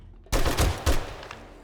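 Gunshots in the zombie survival game 7 Days To Die, a sudden loud burst of about three close, booming shots in quick succession, followed by fading echo.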